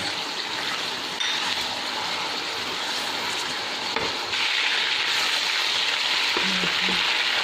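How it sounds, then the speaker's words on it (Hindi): Chicken and whole spices fry in a pan, making a steady broadband sizzle that grows louder midway, with a few faint clinks. No one speaks, and the sound is close and even. "चिकन भी डाल देंगे और खड़े मसाले भी डाल देंगे।"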